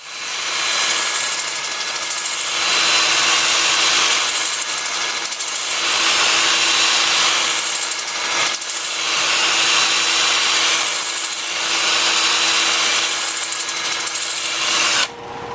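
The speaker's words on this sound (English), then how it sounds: "I have the lathe spinning in reverse at 380 RPM. I'm starting at 100 grit, working up through 400." Sandpaper rubbing a wooden oval bowl on a lathe spinning in reverse at 380 RPM, a steady abrasive hiss over the motor's hum that swells and eases in regular waves, close and loud throughout, no talking.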